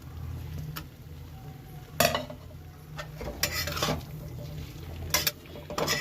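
Utensil scraping and stirring through fried small fish and broken bori in a cooking pan, a few sharp clinks and scrapes spaced across a quiet stretch with faint sizzling underneath.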